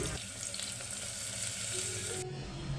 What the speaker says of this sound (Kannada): ಮೆಂತ್ಯ ಸೊಪ್ಪನ್ನ ಹಾಕ್ಕೊಂಡು ಅದ್ರ ಜೊತೆಗೆ ಬಟಾಣಿನ ಹಾಕ್ಕೊಂಡು ಪೂರ್ತಿಯಾಗಿ ಮಿಕ್ಸ್ ಮಾಡಿಕೊಂಡು ಫ್ರೈ ಮಾಡ್ಕೊಳ್ತಾ ಇದ್ದೀನಿ